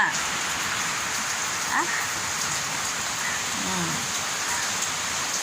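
Steady rain falls in a constant hiss, with a voice speaking softly beneath it.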